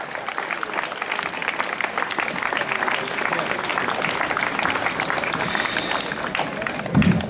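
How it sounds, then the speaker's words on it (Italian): A crowd gathered for a bishop bursts into sustained applause, dense and steady for several seconds with a brief louder swell near the end. "io un applauso lo farei al vescovo"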